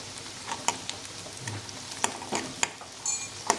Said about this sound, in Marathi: कांदा एक अर्धा मिनिट असा छान परतून झाल्यावर त्याच्यात आपण कढीपत्ता टाकणार आहोत